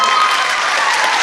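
Concert audience in Aktau claps steadily and densely throughout, a loud, unbroken wash of applause with no voices rising above it.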